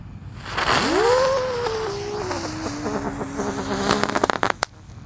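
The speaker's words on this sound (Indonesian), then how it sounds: "kita akan menyalakan mercon Terate Pretek yang warna hijau" A green Terate Pretek firecracker is lit at night, giving a rising, wavering whistle and hiss that drags on for a few seconds before breaking into a quick burst of sharp crackling pops, then silence.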